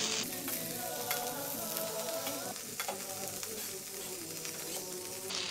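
Chicken vegetable fried rice with soy sauce sizzles steadily in a pan while being stirred, a continuous close frying hiss with light scraping throughout.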